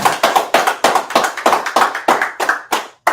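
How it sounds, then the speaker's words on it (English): Rhythmic, evenly spaced claps ring out loud and close, about a dozen sharp beats in a steady pulse, like a group clapping in unison at a gathering. "Let's clap it up real quick. Let's clap it up."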